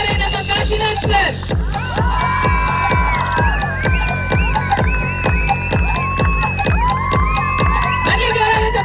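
Loud crowd cheering and whooping with rhythmic clapping at a live ramp-walk show, excited shouts and whistling voices layered over steady beats throughout.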